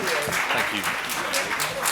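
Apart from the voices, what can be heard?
audience applause for press conference panel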